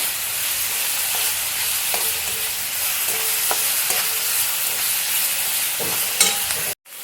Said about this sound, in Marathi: कच्चेच आपण मिरची आहे ना बारीक करून घेतलेली आहे, त्यामुळे आपण परतून घेताना चांगलं असं परतून घ्यायचं